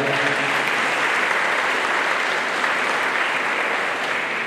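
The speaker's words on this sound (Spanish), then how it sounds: "le damos un aplauso" Sustained, dense applause from guests at a three-year-old's birthday presentation celebration, a steady even roar of clapping throughout.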